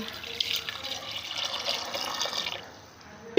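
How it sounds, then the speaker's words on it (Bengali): Water is poured into a cooking pot holding peeled potatoes, a brief splashing, gurgling pour that tapers off after about three seconds. "পানি দিয়ে দিলাম"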